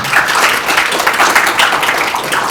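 A forum audience applauds steadily, dense continuous clapping filling the room with no talk over it.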